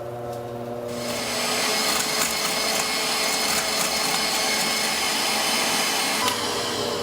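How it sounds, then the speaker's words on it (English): An electric stand mixer whips egg whites on high for French macarons. After about a second a loud, close motor whir with whisk rush kicks in and holds steady to the end. "I'm going to go ahead and go to my mixer and start it on high just to get my egg whites foamy."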